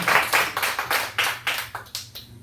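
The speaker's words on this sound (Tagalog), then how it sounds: "Isang malakas na palakpak po para sa ating Panginoon." A church congregation claps for the Lord during a preaching service, with a run of about nine loud, roughly even claps that slow slightly and soften toward the end.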